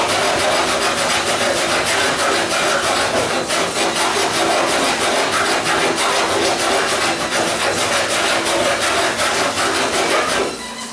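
Hand file rasping across built-up weld on the steel trunk panel of a 1977 Camaro Z28, a loud, continuous run of rapid rubbing strokes close by that cuts off near the end.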